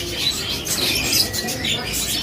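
A shop selling songbirds, including bondol finches, fills with dense, steady high chirping and twittering from many caged birds, continuous and fairly loud, with no clear talk over it.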